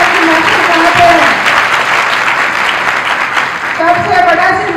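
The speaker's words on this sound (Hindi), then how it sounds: "उन बच्चों को मोटिवेट करने के लिए तालियां इतनी बजाओ कि वहां तक पहुंच जाए" A crowd at a student awards ceremony in Panipat claps loudly and continuously, the dense applause close and full, with a voice and tonal sounds rising over it near the start and end.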